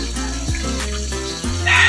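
Water flowing steadily at a hidden stream, a close, continuous rushing gurgle that stays fairly loud throughout the short stretch, with no voices.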